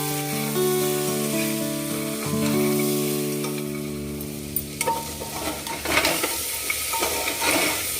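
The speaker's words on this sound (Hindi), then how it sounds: "काजू और आलू को मैं अच्छे से साथ में ही भून लूँगी" Potatoes and cashews frying in a little ghee for paneer pulao, with a steady close sizzle and occasional scrapes of stirring, and a held tonal hum running through the first half.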